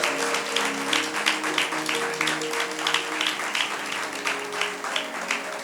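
A church congregation applauds in a continuous, fairly loud mass of clapping that rises and falls slightly, with sustained keyboard chords underneath throughout.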